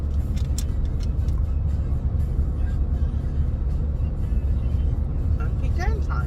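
A car cruises along a six-hour road trip to Pennsylvania, giving a steady low engine and road rumble inside the cabin. A voice talks over the drone throughout.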